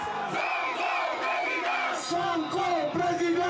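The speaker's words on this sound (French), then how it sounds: "À Thiès, ce 20 février 2019, la foule scande un seul mot." A rally crowd in Thiès chants a single word together, loud rhythmic massed voices rising and falling in repeated surges, close and dense throughout.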